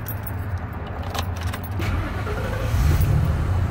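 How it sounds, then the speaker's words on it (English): Keys jangle in the ignition of a 1998 Ford E-150 wheelchair van, then the engine cranks and catches into a steady low idle, heard up close from inside. "And when I go to turn the van on,"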